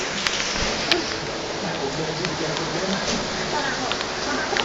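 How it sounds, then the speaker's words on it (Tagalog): Steady rain falls in an even, dense hiss that stays constant throughout, with a couple of faint sharp ticks near the start and no voices. "It's raining, right? I hate rainy days."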